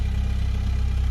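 Nissan NX engine idling after its fuel injectors were replaced, a steady, even low rumble with a fine regular pulse, loud and close, running alone without any voices.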